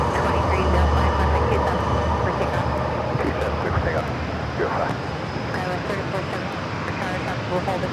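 An American Airlines Boeing 737-800 jet at San Diego airport roars with a broad, steady engine rumble and hiss, loud and sustained throughout, while a voice talks over it.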